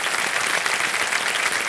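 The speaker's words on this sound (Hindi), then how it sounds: "तालियां बज जाए इनके लिए" A studio audience at a televised quiz show applauds a contestant, a dense, even wash of clapping that stays loud and unbroken throughout.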